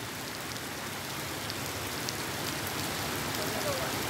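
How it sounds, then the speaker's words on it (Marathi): Steady monsoon rain falls across Satara district, a dense, even hiss of drops on surfaces that stays loud and unbroken from start to finish with no clear voices. "सातारा जिल्ह्यात पावसाची संततधार वाढतच चालली"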